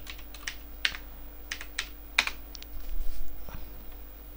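A computer keyboard is tapped in short irregular bursts as a website URL is typed, with crisp close key clicks over a faint low hum.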